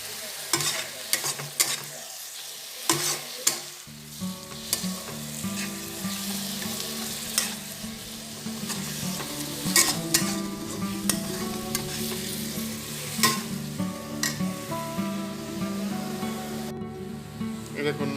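Mutton being stirred and fried in oil in a pan, a steady loud sizzle with repeated scraping stirs of the spoon through most of the clip, with a background of music.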